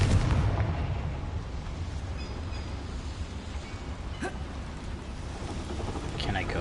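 A Confringo fire spell blasting in Hogwarts Legacy, a dense rumbling burst at the start that settles into a sustained roar of fire and crackle, with game sound layered over it.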